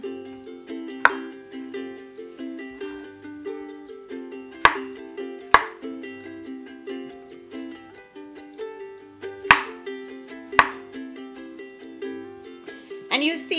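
A knife cuts mushrooms into halves and slices on a board, giving sharp separate knocks at irregular intervals over a quiet steady musical background.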